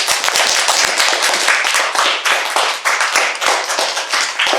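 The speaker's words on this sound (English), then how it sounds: "So give him a round of applause." Brisk, dense hand clapping from a small group, continuous and fairly loud, with individual claps audible in the mix.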